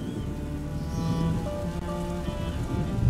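Steady rain falls in the video game A Plague Tale: Innocence, a dense, even hiss of drops on surfaces with faint tonal music or ambience underneath and no voices.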